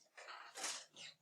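A single soft sneeze with a breathy burst and short follow-through, fairly quiet and close, heard alone without talk.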